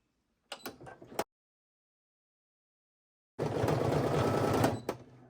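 An embroidery machine stitches a denim jacket, starting with a few short, sharp mechanical bursts, then pausing before a steady, close rattling run of rapid stitching that lasts about two seconds and stops abruptly.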